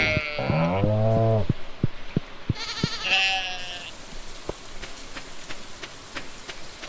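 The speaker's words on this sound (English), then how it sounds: "causing my sheep to regrow their wool every day" Sheep in the Stardew Valley farming game bleat loudly twice in quick succession, wavering cries up close, followed by a run of soft, evenly spaced ticking game sounds.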